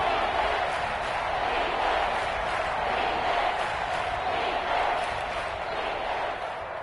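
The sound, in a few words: stadium crowd cheering at a football game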